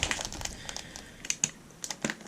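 Adhesive tape peeled from the box of a 1:18 BBR Ferrari F12 TDF model car in white with Italian flag stripes, heard as close, crisp crackling rips and short tearing bursts with no talk.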